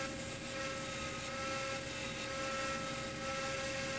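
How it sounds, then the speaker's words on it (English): Steady, continuous grinding of excess pin material flush on the scales of a 5160 steel knife, a dense, even whine with a constant high tone running alone at moderate level. "we're going to grind off the excess pin material so that we can start shaping and contouring"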